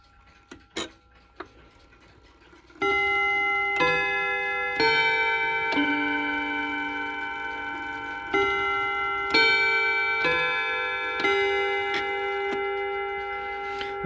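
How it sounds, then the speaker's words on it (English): A Waterbury No. 401 chime clock, running slow after being moved, plays its chime sequence: a few soft ticks, then clear ringing hammer strikes on the rods, each tone sustaining and overlapping the next, close and alone. "Whenever I move this clock, it likes to go slow, the chimes."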